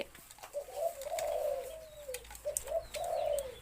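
A ten-year-old spotted dove coos in repeated soft, rolling phrases of seven notes, fairly close, over a quiet background with faint chirps from other birds.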